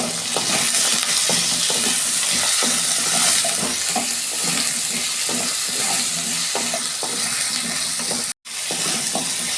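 Potatoes fry with salt and turmeric in a pan, a steady close sizzle with stirring scrapes throughout and a brief dropout near the end.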